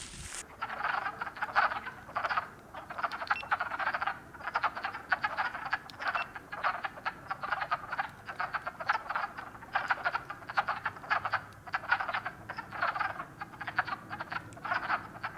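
Wood frogs croak in a dense, continuous chorus, with many short clucking calls overlapping in quick irregular bursts, moderately near and with no voices over them.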